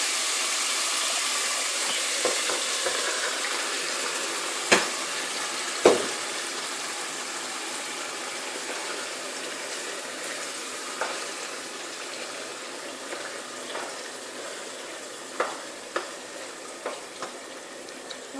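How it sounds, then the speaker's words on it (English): A pot of Nigerian vegetable stew simmers and bubbles steadily with a soft sizzling hiss, broken by a few sharp clinks and taps of a utensil against the pot. "I'm just gonna let it boil for a while"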